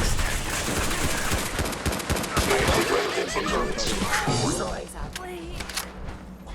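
Gunfire from the video game Fallout 4 crackles in overlapping bursts amid a busy firefight, loud and chaotic, with game characters shouting over the shots.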